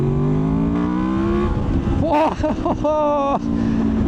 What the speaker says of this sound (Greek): Λοιπόν, θα σας δείξω το VTEC τώρα.